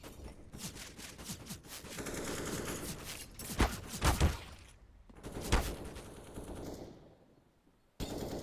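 Rapid automatic gunfire rattles through a Counter-Strike match on the Inferno map, with sustained bursts and several louder shot peaks in the middle, then a brief lull before firing resumes.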